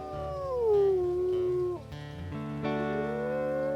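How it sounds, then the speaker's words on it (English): Wolf howls in the video game WolfQuest on pack territory, long clear rising and falling tones, one howl sliding down then another rising, layered over a steady game background. "Let's go ahead and howl on Moonshade Pack territory."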